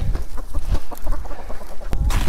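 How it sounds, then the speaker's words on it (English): Americana chickens cluck outdoors on snowy, frozen ground, a busy run of short, close clucks and scratching sounds with one sharp high call near the end. "This is the first time the chickens have been out in a while"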